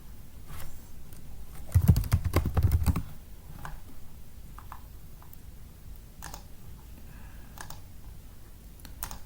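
Quick burst of typing on a computer keyboard, dense clicking keystrokes for about a second, then scattered individual key presses and clicks, close and fairly quiet.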